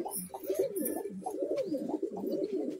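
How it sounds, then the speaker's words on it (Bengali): Kolkata high-flyer pigeons, including an old male, coo in low, throaty, rolling bursts that repeat continuously and closely at a pigeon sale. "এটা নর পায়রা, খুব পুরোনো ডানা।"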